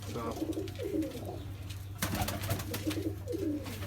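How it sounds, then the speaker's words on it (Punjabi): Bazi pigeons coo in soft repeated phrases nearby in a loft, a low rhythmic warbling over a steady background hum. "ਦੇਖੋ ਪ੍ਰਿੰਸ ਦੇ ਘਰੋਂ ਫਿੱਕੀ ਬਿੜੀ ਅੱਖ ਦੀ ਕਬੂਤਰੀ"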